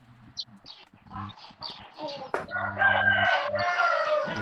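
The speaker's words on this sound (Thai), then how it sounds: "เสียงไก่ขันได้บรรยากาศมากครับนักเรียน" A rooster crows in full at fairly close range, joined by some clucking from other fowl, while someone talks over part of it during an online math lesson.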